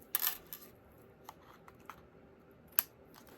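Scissors snip paper for a handmade Stampin' Up! birthday card, with a few short, sharp cutting sounds spread unevenly across a quiet background.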